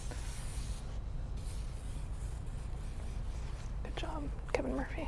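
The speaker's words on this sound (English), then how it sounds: "I do want to spray her all over with a texture spray to make sure that everything is texturized" Texture spray hisses from a can onto a woman's hair in a salon, a soft continuous spray under low murmuring voices.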